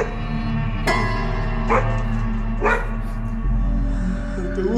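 A dog barks three times, short sharp yaps spaced about a second apart over a low, steady background hum.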